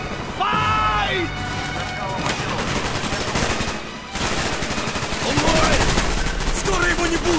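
Sustained automatic gunfire in the video game Call of Duty Black Ops, loud continuous rattling with a brief lull midway, under shouted voices in English and Russian.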